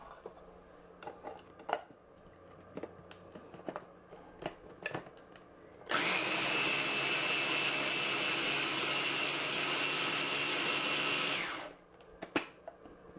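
A food processor gives quiche filling a quick whiz, a loud steady whirring blend of about six seconds that starts and stops abruptly, set between quieter kitchen clatter and handling noises.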